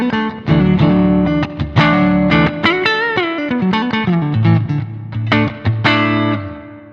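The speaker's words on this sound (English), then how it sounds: "With a Fender type amp, I like a spring reverb, so I'll set that on." Electric guitar runs through a Zoom G3X HD multi-effects pedal on a Fender-type amp setting with spring reverb, playing loud, driven chords and single-note lines that ring out with a wet, splashy tail.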